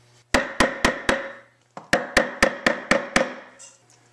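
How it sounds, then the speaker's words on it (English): Hammer blows on a chisel, cutting down a screw hole in a wooden part of a homemade $15 Steadicam: four sharp, evenly spaced strikes, a short pause, then six more, loud and close. "we're just kind of like chiseling down the hole so that it'll fit in better"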